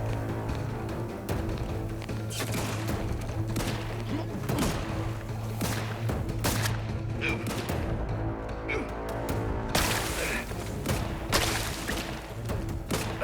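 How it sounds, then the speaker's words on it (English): Gunfire in The Outer Worlds 2 crackles in repeated bursts and thuds over a constant droning game background, with scattered impacts and brief louder volleys throughout. "Who's shooting at us now?"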